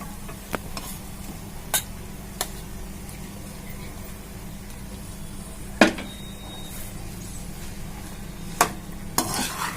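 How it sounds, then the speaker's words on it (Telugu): Rice being stirred together with gongura masala in a pan, with a steady low sizzle of frying underneath and a few sharp spoon scrapes and clinks against the pan scattered through. "గోంగూర మసాలా అంతా దీన్ని పట్టాలండి అన్నానికి మొత్తం బాగా కలుపుకున్నాం"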